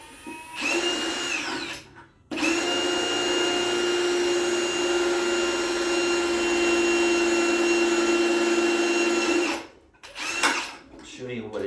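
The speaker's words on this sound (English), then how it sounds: "We're going to continue to use this drill bit." A power drill bores a hole with a drill bit while building a high banker trommel spray bar, a loud steady whine that starts, briefly stops, resumes for several seconds, then cuts off.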